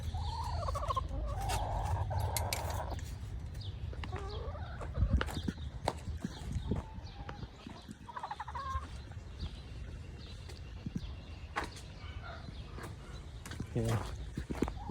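Backyard chickens cluck and call inside a Tractor Supply Sentinel chicken coop, with steady mixed poultry chatter and occasional sharper squawks under a low background rumble.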